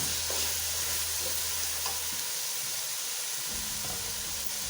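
Cumin seeds sizzling in hot oil for chana pulao, a continuous loud close frying hiss with faint stirring clinks and a low rumble that fades partway through.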